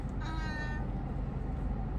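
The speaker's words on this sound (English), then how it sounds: "A cat." A cat meows once, a short, clear, near call over a steady low background rumble.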